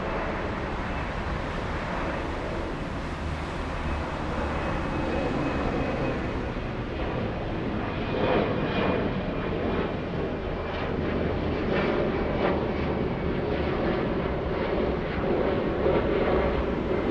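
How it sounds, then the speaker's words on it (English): A steady, broad roar of a Lufthansa airliner lining up on the runway at Frankfurt Airport, with the jet engines holding a constant, moderately distant rumble that swells slightly toward the end. "Lufthansa 1340 flying to Budapest in Hungary. Lining up."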